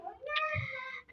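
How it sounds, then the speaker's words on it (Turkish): A cat meow sound effect, one short rising-and-falling meow of about a second, fairly close and clear. "Şu miyav sesi başından beri gelmesini istiyorum."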